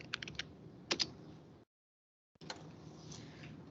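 Keystrokes on a computer keyboard while entering a command in MATLAB, a quick run of distinct clicks that stops, goes silent, then resumes as lighter typing.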